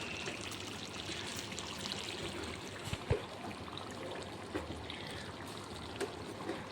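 Cooking oil pours into a pan while dosakaya mutton curry is made in a home kitchen, a faint, steady trickle with a few soft clicks and taps.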